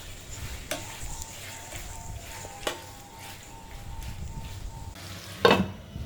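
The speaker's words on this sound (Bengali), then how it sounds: "এখন আমি দুটো কাঁচা মরিচ ভালোভাবে চিড়ে দিয়ে দিচ্ছি" Slit green chilies go into a frying potato curry (alur dom), with a soft, steady sizzle broken by a few sharp spoon-and-pan clinks and a louder splash of sizzling near the end.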